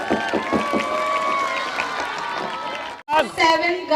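An audience at a school annual sports meet claps and cheers in a rapid burst, mixed with an amplified voice, then briefly cuts out before loud noise returns.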